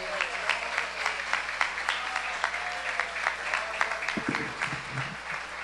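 A church congregation claps steadily and warmly for several seconds, a dense, even patter of many hands in a large hall, with a few brief voices breaking through near the end.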